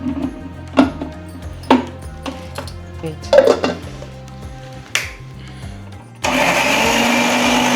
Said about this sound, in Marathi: दूध घालून बारीक करायचे, पाणी न टाकता. इथलंच 2 पळी दूध घेऊन छान वाटून घ्यायचं मिक्सरमध्ये.